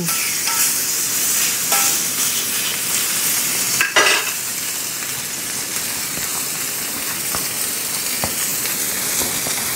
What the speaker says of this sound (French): On fait saisir comme il faut notre steak.